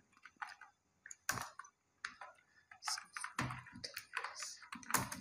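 Fingers type text on a computer keyboard in irregular bursts of crisp, close clicking keystrokes, with short pauses between bursts.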